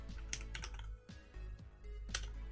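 Quick typing on a computer keyboard: irregular bursts of close, crisp key clicks with short pauses between them, heard alone with no voices.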